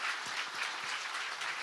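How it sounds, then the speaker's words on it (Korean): A church congregation applauds during a New Year's prayer service, steady broadband clapping from many hands filling the room without a break. "성삼위 우리 하나님께 영광의 박수 보냅시다"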